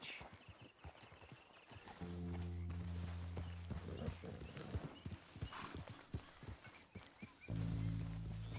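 Horse hooves clop along in a steady, rhythmic trot in Red Dead Redemption 2, with a low droning music bed underneath and occasional louder swells.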